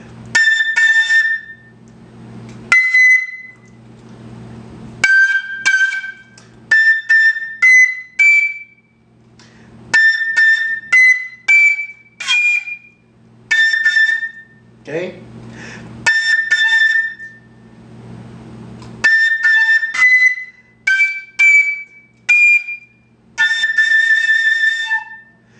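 A quena flute plays an Andean tune in short phrases separated by brief pauses, bright and close, alone without talk.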